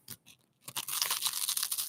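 A crisp, loud crunch of biting into dry toast with crunchy peanut butter, a couple of short bites followed by sustained close chewing crackle.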